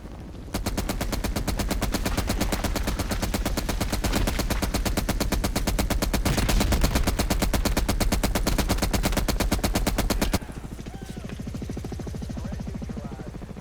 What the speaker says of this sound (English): Who needs a sniper when you've got an M16?